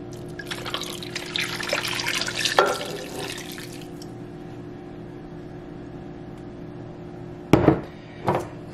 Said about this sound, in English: Now we're gonna add in the two cups of the beef broth.